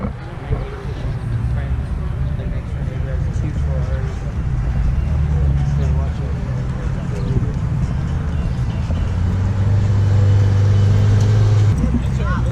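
A McLaren 600LT's engine rumbles steadily as it rolls in slowly nearby at an exotic car show, with a deeper drone near the end and people talking over the scene.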